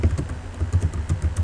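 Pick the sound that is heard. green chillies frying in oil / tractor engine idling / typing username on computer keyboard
typing username on computer keyboard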